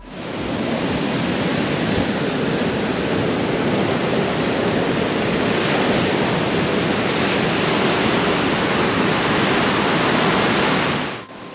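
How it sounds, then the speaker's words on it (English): Sea waves crashing in an unfiltered recording, a loud, continuous roar of surf and wind-blown spray that holds steady for about eleven seconds with no voices. "you hear the noise like of the waves"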